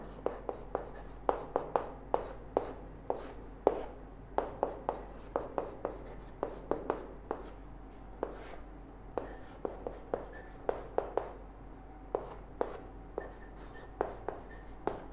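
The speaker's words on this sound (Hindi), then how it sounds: "मैं इसको थोड़ा और एक बार दोबारा लिख देता हूं।" Chalk or marker writes on a board during a maths lecture on limits, giving a long run of quick, sharp taps and short scratchy strokes in irregular bursts against a quiet room.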